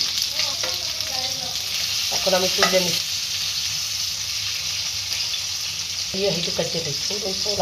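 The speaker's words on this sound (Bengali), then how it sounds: "এখন আমি মাংসগুলো উল্টাই দিচ্ছি।" Chicken pieces fry in hot oil in a pan with a steady close sizzle, and a few brief scraping, clinking sounds come as the pieces are turned over.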